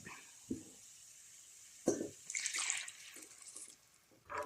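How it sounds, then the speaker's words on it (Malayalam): Water splashes and pours into a pot of seer fish curry in a few uneven bursts, with quiet clinks before and after. "നമ്മുടെ ആവശ്യത്തിന് വെള്ളം ഒഴിച്ച് കൊടുത്തിട്ടുണ്ടേ"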